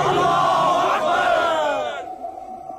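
Large crowd roaring a loud, unified slogan response to a rallying call, a dense wall of shouting voices that swells and then fades out.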